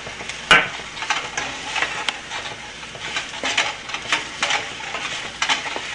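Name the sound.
stir-frying okra with gram flour and mango powder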